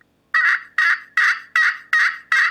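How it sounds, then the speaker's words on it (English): Six evenly spaced raspy, muffled yelps from a turkey pot call held with too loose a grip, each short and close, with a dull, flat, dead tone and no talking. "If you grip it too loose, it's not going to give you the vibration that you want in the call."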